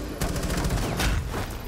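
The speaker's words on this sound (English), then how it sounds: "Shotgun." Shotgun blasts from the video game Rainbow Six Siege ring out in two loud, close booms roughly three-quarters of a second apart, with no talk over them.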